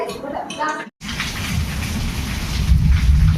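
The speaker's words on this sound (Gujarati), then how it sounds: "અત્યારે અમારે મોરબીમાં સવારથી વરસાદ પડે છે. વીજળીના કડાકા ભડાકા એવા થાય." Morning rain in Morbi pours steadily close by, a dense broadband wash with low rumbling thunder swelling toward the end, after a brief opening of voices and a short silent gap.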